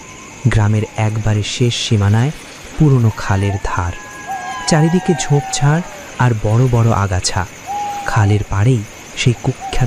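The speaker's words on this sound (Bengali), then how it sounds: "গভীর রাত, ঝিঁঝি পোকার ডাক ছাপিয়ে মাঝে মধ্যে হুতুম প্যাঁচার ডাক শোনা যাচ্ছে।" Night crickets chirp in a steady high drone with an owl hooting now and then, a cartoon sound effect playing faintly beneath continuous narration by a storyteller.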